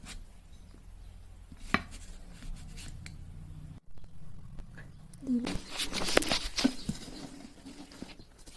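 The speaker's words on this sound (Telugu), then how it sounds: "ఈ విధంగా కట్ చేసేసుకోవాలి" A knife cuts through a sheet of mango tandra, a mango and jaggery sweet, with several sharp taps and slices on a board. Later comes a busier burst of cutting and scraping, with a person speaking over it.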